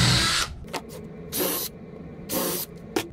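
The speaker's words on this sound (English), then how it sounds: "Right now we'll just pre-drill the holes for the screws." Three short bursts of a power drill whirring into wood, pre-drilling screw holes, each lasting under half a second, with brief pauses between them.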